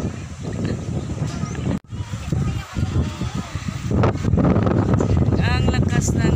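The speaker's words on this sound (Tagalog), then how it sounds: "Ang lakas ng hangin." Strong wind buffets the microphone outdoors at a farm, a loud rushing roar with gusts swelling and dropping throughout.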